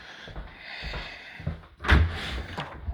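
A door swings shut on its self-closing mechanism, ending in one fairly loud close thud with a brief rattle, after soft rustling and movement nearby.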